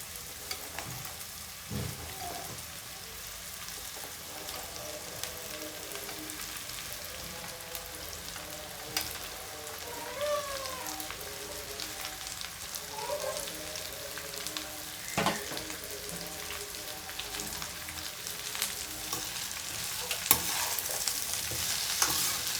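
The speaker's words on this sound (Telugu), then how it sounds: "ఇప్పుడు ఇందులో మనం బెండకాయలు వేసుకుందాము" Chopped okra for a lady's finger fry sizzles steadily in a pan while being stirred, with occasional scraping clicks of the spoon over a continuous frying hiss that grows slightly louder toward the end.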